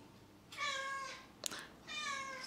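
A cat meows twice, loud and close, with drawn-out harmonic cries separated by a brief sharp knock in between, heard indoors during a tarot card review.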